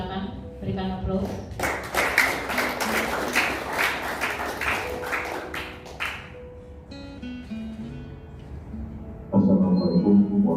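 An audience at a retirement farewell ceremony breaks into a few seconds of dense hand clapping, then it fades as a speaker's amplified voice takes over.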